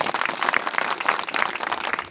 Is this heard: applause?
yes